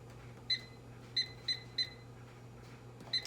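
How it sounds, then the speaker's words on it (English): A kitchen timer is set for ten minutes with a series of short, high electronic beeps, four in quick succession and a fifth after a pause, faint over a low steady hum. "I'm going to put a timer on for 10 minutes"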